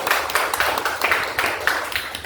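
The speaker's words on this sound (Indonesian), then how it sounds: "kita kasih tepuk tangan dulu" A small indoor group claps together in a burst of applause, dense and steady for a couple of seconds at moderate loudness.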